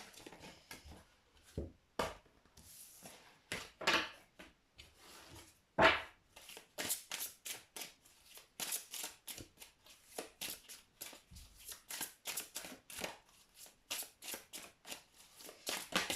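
Angel oracle cards are shuffled by hand in repeated quick riffling bursts, close and crisp, continuing steadily with short pauses between.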